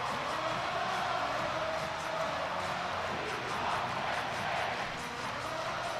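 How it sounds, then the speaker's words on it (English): Hockey arena crowd at Penn State roaring after an overtime winner, a dense, loud, sustained cheer filling the space, with a voice faintly under the noise. "A record-setting crowd at Pagula explodes."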